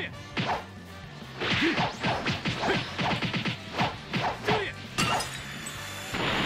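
Crystals being broken in the Dragon Ball Xenoverse 2 video game: a rapid flurry of whacks, whooshes and crashing impacts with a brief shattering burst near the end, loud and dense against continuous in-game sound.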